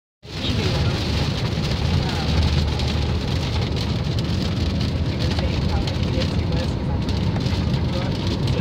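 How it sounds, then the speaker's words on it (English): Heavy rain pouring down during a storm, a dense steady roar of rainfall that runs continuously and loudly from start to finish, with no voices. "The rain is so heavy, and it's pouring"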